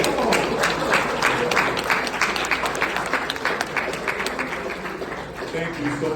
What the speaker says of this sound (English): Come on, clap it up there for them.